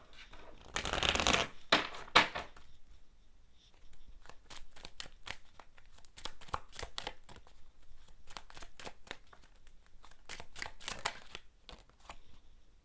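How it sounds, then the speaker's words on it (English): A deck of Kipper cards is shuffled by hand in a quiet room, giving a dense run of quick riffling flutters and slaps, loudest at the start and then continuing as a steady patter of card snaps. "Let me pull some Kipper cards."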